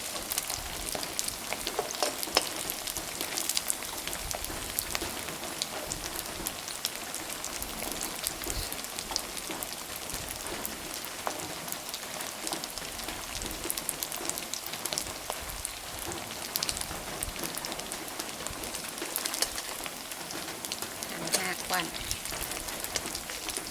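Sticky rice frying in a pan before egg is added, giving a steady, dense, rain-like sizzle and crackle that runs unbroken throughout, with occasional faint voices.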